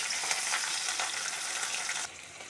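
Onion, potato and green chilli sizzle steadily in hot oil for a Bengali fish curry, a dense continuous frying hiss with faint stirring that drops slightly in level near the end.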